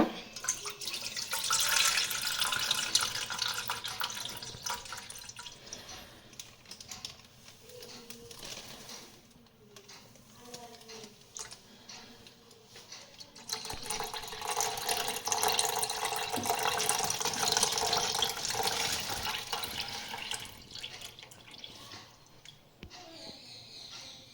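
Water runs and splashes steadily from a tap or pitcher in two long bursts with a short lull between, rinsing freshly churned homemade butter and separating the buttermilk in a home kitchen.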